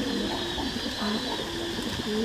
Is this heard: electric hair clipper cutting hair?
no